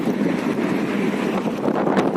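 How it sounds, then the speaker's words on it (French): A strong winter wind blows across Tower Bridge over the Thames in London in December, buffeting the microphone with a loud, continuous rumbling roar and no speech. "mais alors il y a un vent monstrueux"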